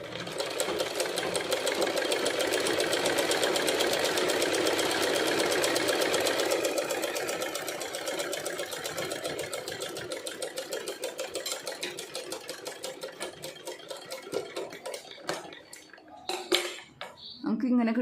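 A sewing machine stitches a silk border onto a silk skirt in a fast, continuous mechanical rattle that runs steadily and close, then slows, breaks into stops and short restarts near the end.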